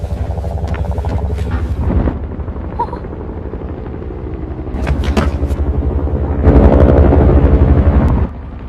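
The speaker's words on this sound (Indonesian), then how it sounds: "Tiba-tiba suara helikopter datang dan mereka membatalkan." A helicopter approaches in a Korean zombie film, its loud, rhythmic rotor thumping and engine rumble building across the scene, with brief sharp impacts and shifting film sound effects layered over it.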